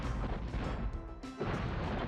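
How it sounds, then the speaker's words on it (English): In Spyro 2's Zephyr level, cannons fire with dull, low booms that are dense and overlapping. The muffled game blasts are of moderate loudness and run under a steady background. "Better with these cannons to just fire multiple of them."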